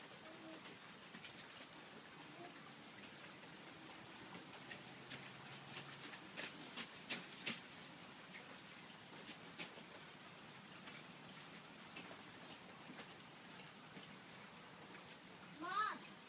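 Steady light rain falls outdoors with soft, continuous patter and scattered louder drips, faint and distant, and a brief voice near the end.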